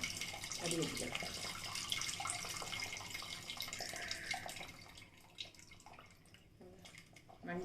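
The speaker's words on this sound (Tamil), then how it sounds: "இப்போ நம்ம வந்து புளி தண்ணி ஊற்றிக்கலாம்" Tamarind water being poured and strained into a Chettinad-style fish kulambu, a soft steady trickle and splash of liquid with small drips, quiet and close, with someone speaking over it.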